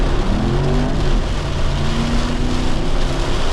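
A neglected cheap Jaguar revs steadily with one wheel spinning on wet pavement, a loud, continuous engine drone holding through the whole stretch with no voices.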